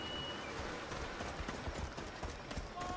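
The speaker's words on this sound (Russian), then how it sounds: "Я думал, это мой конь и медведь бегут встречать меня." A horse gallops in Assassin's Creed Odyssey, its rapid clip-clop hoofbeats thudding quietly and steadily over ambient game sound, with no talking.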